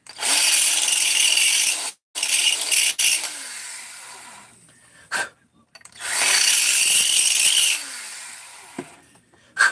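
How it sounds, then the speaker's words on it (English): DeWalt right angle drill running in two loud bursts of high whine about two seconds long, separated by short pauses, a few clicks and faint handling noise in the quieter gaps. "This is a DeWalt right angle drill,"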